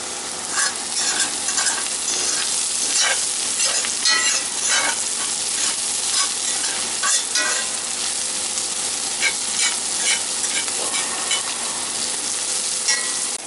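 A rib eye steak sizzles in a cooking tray with a constant, lively crackle and spatter, steady and close throughout with no speech.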